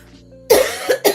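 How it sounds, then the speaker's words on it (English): A person coughs twice in quick succession, close and loud, with a third short cough following; no speech accompanies it. "Stupid cough."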